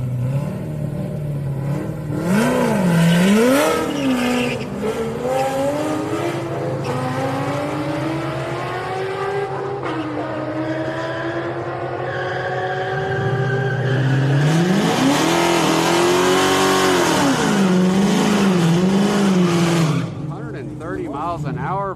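Drag racing cars, including a BMW in the right lane, roar and rev hard at Houston Raceway Park's Friday street night, engine pitch climbing and falling through gear changes, loud and sustained, with crowd or announcer voices mixed in.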